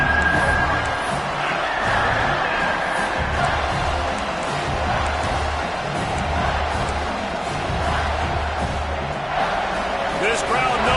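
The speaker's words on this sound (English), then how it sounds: "This crowd knows they have to bring it in big moments" A stadium crowd at an American football game gives off a continuous loud roar and rumble, with a commentator talking over it the whole time.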